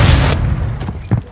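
A grenade goes off in a Call of Duty match, a loud close boom at the start that fades into rumble, followed by a couple of smaller pops and bursts.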